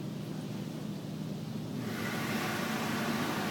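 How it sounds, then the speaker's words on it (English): An automatic car wash sprays water over a car, a steady hissing wash that grows noticeably louder and brighter partway through, with machinery hum underneath and no talking. "And it's spraying the car with water."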